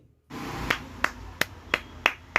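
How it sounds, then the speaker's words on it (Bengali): Hands clap six times in an even, steady rhythm, each sharp crack standing out over a low background hum. "হাততালি"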